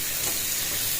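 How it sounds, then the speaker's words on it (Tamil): Onions and green chillies sautéing in a hot pan for a spicy green chilli kuzhambu, giving a steady, close, unbroken sizzle with no voices. "வெங்காயம் பச்சை மிளகாய் ரெண்டுமே நல்லா வதங்கி வரணும்"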